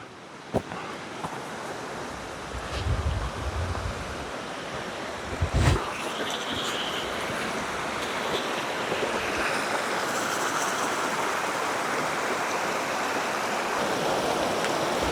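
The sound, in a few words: creek water flowing in a canyon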